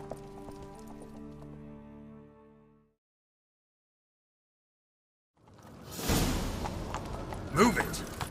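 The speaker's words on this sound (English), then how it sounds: "Grab a horse, we'll chase him down." Voices and tones fade into a few seconds of silence, then loud, rapid hoofbeats of a galloping horse come crashing in, in the video game The Witcher 3: Wild Hunt.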